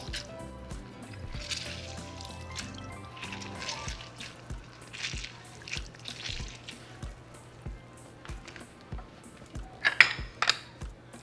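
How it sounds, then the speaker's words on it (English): Orange squeezed by hand into a large bowl for juice, a series of wet squishing presses and dripping splashes with faint clinks against the bowl, a few louder squirts near the end. "in a large bowl, we're going to squeeze out our orange so we can get all of our orange juice"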